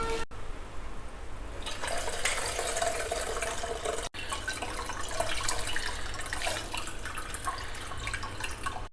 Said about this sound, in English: So again you fill water, wash it and drain out.